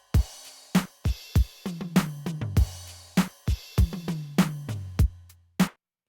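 Stock Drum Tracks kits layered together in a programmed beat, punchy kicks and snappy hits with short pitched tails, evenly spaced and close, with no voices.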